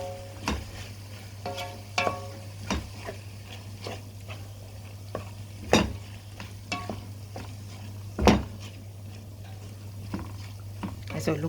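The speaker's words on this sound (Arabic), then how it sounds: "نقلب تاني المكونات دي." Alexandrian-style liver stirred in a frying pan, with scattered scraping knocks of the utensil over a faint sizzle and a steady low hum throughout.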